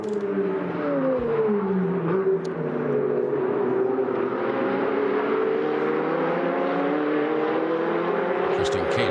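Ferrari Challenge race cars roar around the Valencia circuit in a Coppa Shell race, engines howling steadily and sweeping in pitch as they pass, loud and continuous under faint commentary.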